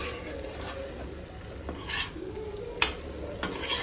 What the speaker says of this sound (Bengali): এবারে আলু আর হিচড়টা দিয়ে দেবো হিচড় আলুটা ভালো করে আবার কষিয়ে নেব